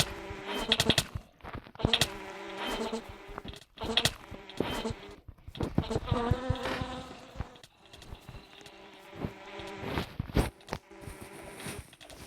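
A bee buzzes in a video game, dense insect-like buzzing with rapid fluttering bursts and stops that repeat loudly across the stretch, with no talking.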